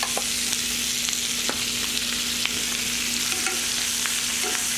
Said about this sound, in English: this is probably gonna make a big sizzle